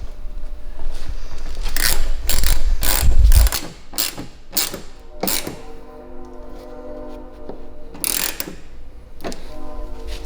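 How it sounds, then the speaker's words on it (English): Ratchet turning 7mm headlight bolts on a 2007-2013 GMC Sierra, heard as close, loud clusters of sharp clicks in quick bursts, then lighter intermittent clicking alongside a faint steady hum. "Then you'll take your ratchet with your 7mm bolts."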